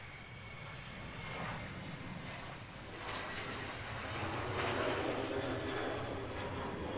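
A TUI Boeing 737 airliner taking off from Manchester Airport, its jet engines giving a distant, steady roar that slowly builds and swells in the second half, heard alone without talk.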